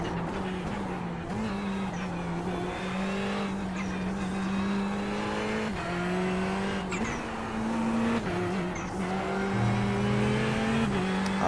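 In the iRacing game, an F1 car engine whines at a steady high pitch, dipping briefly at each gearshift in a regular rhythm, with faint tire noise beneath and no voices.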